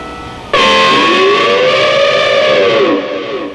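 An electric guitar swells in from silence on a 5-7-12 harmonic chord using the volume knob, then the whammy bar bends the ringing pitch up and down in an elephant-like trumpeting wail, loud and sustained, no voice.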